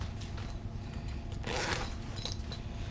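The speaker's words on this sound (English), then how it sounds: "It does zip on." A Semapo zip-on panel is zipped onto a plate carrier: a soft rasping zipper pull rises mid-clip over a steady background hiss, with faint jingling of hardware.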